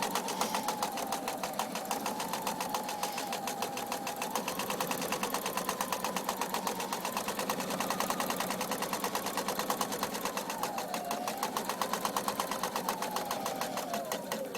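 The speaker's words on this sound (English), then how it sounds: "you're just going to sew straight down" Sewing machine stitching a straight seam on a fabric napkin, a rapid and even mechanical whir of needle strokes running continuously at close range with no talking.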